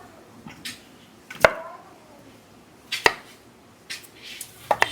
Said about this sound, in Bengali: এবার আলুগুলোকে আমরা পিস করে নেব চলো সব কটা আলু পিস করে নিই